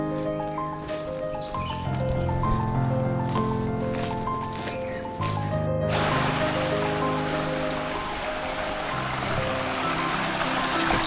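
A stream flows on the trek to Kshirdhara waterfall at Channat, a steady rushing wash that comes in loud and close partway through after a stretch of background music.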